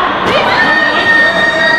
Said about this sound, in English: Fans are cheering for him.